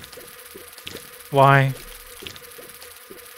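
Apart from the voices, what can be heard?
swarm of buzzing bees in The Binding of Isaac video game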